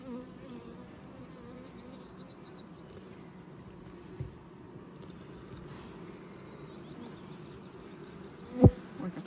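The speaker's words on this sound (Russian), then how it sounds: "Пчелы много." Honey bees at a hive during a May inspection in swarming season produce a steady, low, continuous buzz throughout. One sharp knock comes near the end.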